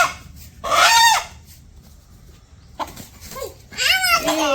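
A farm rooster crows twice, each call a loud drawn-out cry close by, separated by a quiet pause of about two seconds.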